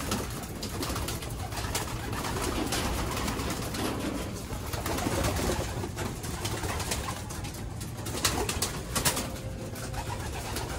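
Breeder and flyer pigeons coo in a loft, with soft low cooing over constant rustling background noise and a few louder flutters near the end.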